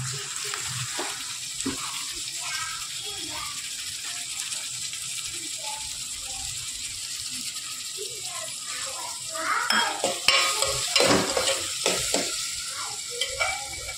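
Tomatoes frying in a pan for a prawn curry, a steady sizzle running throughout with scraping, clattering stirring strokes growing busier and louder toward the end.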